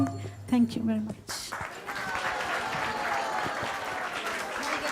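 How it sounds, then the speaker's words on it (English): An audience at a Vaisesika Maharaja Vyas Puja celebration breaks into sustained, dense applause that swells and holds steady after a brief voice at the start. "Let's give a big round of applause."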